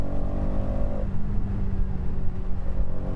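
A Hero Xtreme 250R motorcycle with a six-speed gearbox runs close by, its engine droning and revving steadily with a shift in pitch partway through as gears change, loud and continuous with no talk over it.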